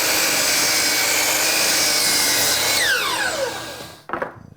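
A power saw cuts a 45-degree miter through pine door trim, a steady loud whine that rises and trails off as the blade finishes, followed by a brief clatter as it stops.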